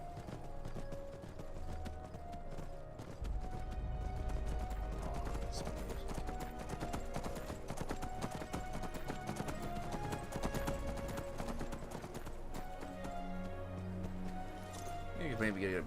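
Horse hooves clip-clop steadily in modded Skyrim Special Edition, a rhythmic trotting beat running the whole time beneath game music and a voice talking.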